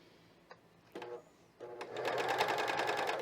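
Cover stitch machine sewing fold-over elastic: a few brief taps and short bursts, then a steady, loud run of rapid stitching that continues to the end, close by with no talking.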